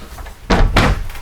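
A storage cabinet door in the bathroom of a new 2017 Newmar Ventana 4037 motorhome is pulled open, giving two close, solid thumps in quick succession with no talking.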